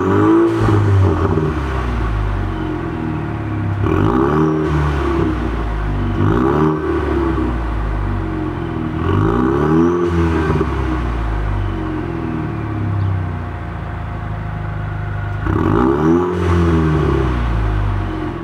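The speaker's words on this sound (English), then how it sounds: "another thing that's gotten done to the car was my custom exhaust" Ford Mustang with a custom exhaust revving repeatedly, five or six sharp throttle blips rising and falling over a steady idle rumble, loud and close with no talking.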